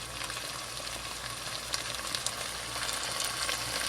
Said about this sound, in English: I think you can hear it cooking.